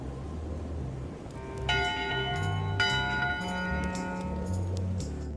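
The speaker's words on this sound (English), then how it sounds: "1 bell, crew voting. 2 bells, LeChuck shouting." A ship's bell on deck in the Return to Monkey Island game rings twice, two clear metallic strikes a little over a second apart that ring out over a low, busy background.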